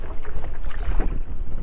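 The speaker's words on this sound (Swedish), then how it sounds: "Oj oj oj vad det blåser." Strong gusts buffet the microphone on a fishing boat in a short burst of rumbling wind noise, loud and uneven, with water sounds beneath and no talking.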